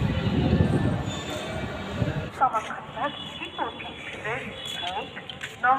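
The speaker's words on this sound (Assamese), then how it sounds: "ট্ৰেইন আহিছে" A train pulls into a station in Rangiya, with low rumbling and scattered metallic squeals and clanks rising over the platform, while people talk nearby.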